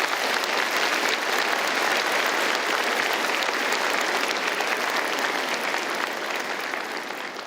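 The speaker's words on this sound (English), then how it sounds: "have all of us give a big round of applause to everybody here" A large audience at a university Faculty of Science convocation ceremony applauds in a dense, sustained round of clapping that fills the hall, steady throughout and easing slightly at the end.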